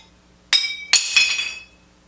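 A kiln cookie is struck hard twice to free glazed pottery after a glaze firing, each blow giving a bright, ringing ceramic clink that lingers and fades, close and loud with no talk.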